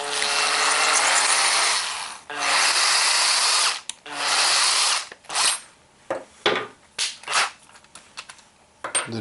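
A power drill trimming .30-06 Springfield brass cases whirs in long steady bursts, then breaks into short choppy spurts with brief pauses between, loud and close with no talking.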